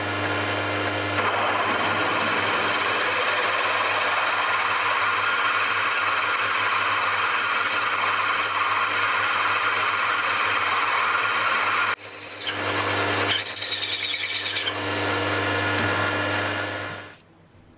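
A drilling machine fitted with a Torsion boring bar set bores a hole, running at raised speed with a steady high whine and a constant low hum, then several short changes in tone before it winds down.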